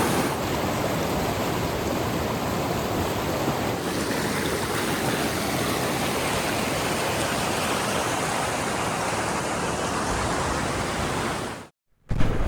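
Icy mountain river water near Gangotri rushes loudly and steadily as a dense, continuous roar close by, cutting off abruptly near the end.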